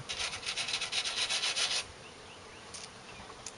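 Scraping a wooden beehive inner cover with a hive tool, a run of rapid rasping strokes for about two seconds, then quieter with bees buzzing faintly nearby.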